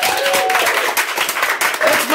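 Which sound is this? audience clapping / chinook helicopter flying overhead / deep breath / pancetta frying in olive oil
audience clapping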